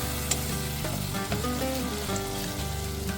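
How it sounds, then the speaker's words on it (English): Chopped onions fry in a pot for a one-pot beef and rice dinner, giving a steady close sizzle with a few soft stirring scrapes and no talk. "Add chopped onions. Cook for a few minutes until it's translucent."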